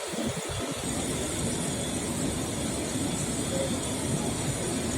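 Ride aboard an air-conditioned KRL Commuterline electric train from Tanah Abang toward Duren Kalibata near Manggarai, Jakarta, with a steady low rumble of wheels and a constant hiss of cabin noise throughout.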